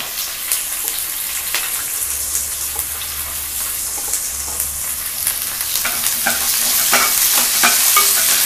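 Chopped onions and green chillies frying in a pan for egg pulao, a steady loud sizzle with scraping stirs throughout, growing a little louder toward the end, no talking.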